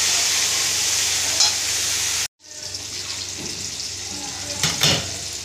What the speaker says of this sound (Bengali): এখানে দেবো টমেটো, কাঁচা লঙ্কা আর আদা বাটা। একটু ভালো করে ভাজবো।